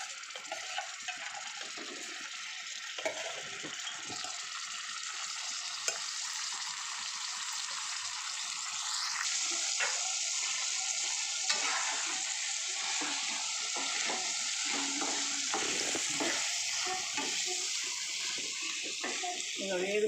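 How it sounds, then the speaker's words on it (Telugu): Bitter gourd pieces fry in hot oil with a continuous, watery, bubbling sizzle that stays moderately loud throughout, joined by occasional stirring clatter and a voice speaking over it. "ఇంకా వేగుతున్నాయి, బాగా వేగనిస్తాను ఎర్రగా"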